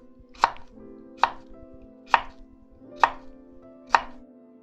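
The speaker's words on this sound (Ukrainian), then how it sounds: "Також кружальцями нарізаємо картоплю" Knife slicing potatoes into rounds on a board for an oven-baked chicken and vegetable dish, five sharp, evenly spaced chops close up, alone without talk.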